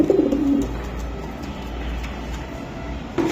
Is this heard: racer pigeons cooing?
yes